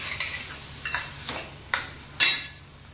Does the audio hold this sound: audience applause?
no